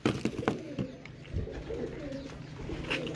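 Pigeons on a rooftop in Sialkot coo and flutter in a steady low murmur, with a few sharper bursts, close by and moderately loud.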